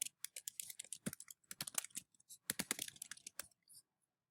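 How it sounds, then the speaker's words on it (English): Typing on a computer keyboard, with quick, irregular runs of sharp key clicks close by and a few brief pauses, alone and fairly quiet, ending in silence. "On the right hand side, you type the definition."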